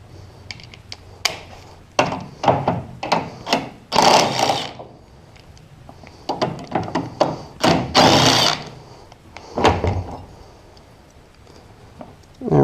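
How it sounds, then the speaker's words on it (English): A wrench breaks loose and turns 13 mm tailgate hinge bolts on a 2004 Chevrolet Silverado 2500HD, giving close, loud bursts of metallic ratcheting and clicks in irregular runs with short pauses between. "I'm gonna break these loose with a wrench first to make sure they're not tight so I don't break them"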